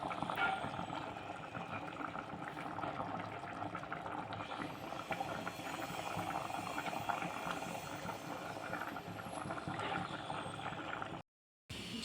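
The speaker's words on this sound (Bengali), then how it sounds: "পর হাই হিটে 2 মিনিট জাল দিচ্ছি" Rajma kidney bean curry boiling on high heat, a faint, continuous bubbling simmer that holds steady with a brief dropout near the end.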